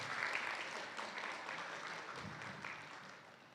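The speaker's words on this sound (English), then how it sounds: "Yeah, give a round of applause." Church congregation applauding to welcome newcomers, a steady wash of clapping at moderate distance that gradually tapers off, with no speech over it.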